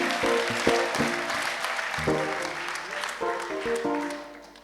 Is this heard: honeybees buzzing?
no